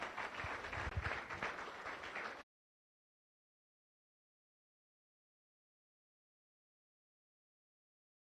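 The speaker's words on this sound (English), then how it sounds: "So please give a round of applause to all of our visiting Rotarians and guests." Applause from a club meeting audience greeting visiting Rotarians and guests, a dense burst of clapping for a couple of seconds that then cuts off into silence.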